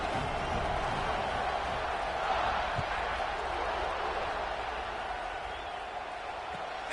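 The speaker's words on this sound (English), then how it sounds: "this crowd is buzzing after that last score" A college football video game stadium crowd keeps up a steady, dense roar and buzz throughout, with faint scattered cheers blended into the wash of noise and a commentator's voice running over it.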